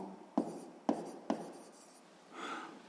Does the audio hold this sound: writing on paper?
yes